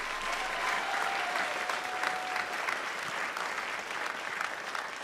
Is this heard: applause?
yes